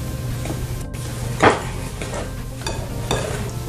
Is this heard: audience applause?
no